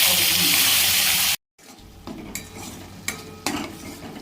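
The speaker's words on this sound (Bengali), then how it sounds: "ভালো করে মশলাটা কষিয়ে নিচ্ছি।" Loud hiss of ground spice paste hitting hot oil cuts off abruptly, then quieter sizzling with a few sharp scraping strokes of stirring in a pan, for a cauliflower curry.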